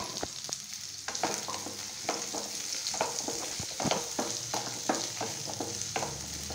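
Halved shallots are sautéed in oil in a kadai, crackling and sizzling close up while a spatula stirs and scrapes in an uneven rhythm, with no talking.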